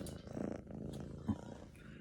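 A small kitten purrs steadily while held in someone's arms indoors, a soft continuous low rumble close by, with a brief louder bump partway through.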